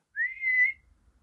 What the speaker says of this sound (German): Nur am anderen Ende ertönte ein leiser Pfiff.